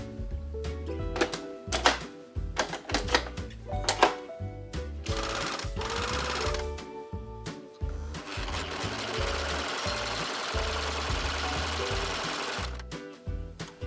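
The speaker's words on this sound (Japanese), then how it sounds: "ロックミシンのメスの部分と布端をしっかり合わせてから、目線をしっかり固定して縫い進めていきます" An overlock machine sews and trims the edge of Liberty fabric, starting in short stuttering bursts of rapid clatter, then settling into longer continuous runs of dense mechanical chatter close by.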